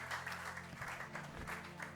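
Congregation clapping together during a Sunday church service, a steady, dense patter of hands running throughout at moderate distance, with no talk over it.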